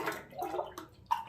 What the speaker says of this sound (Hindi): पहले पानी डाल दूंगी।